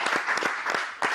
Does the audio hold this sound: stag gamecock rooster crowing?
no